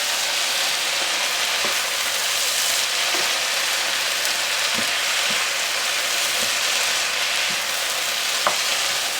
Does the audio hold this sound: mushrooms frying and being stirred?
yes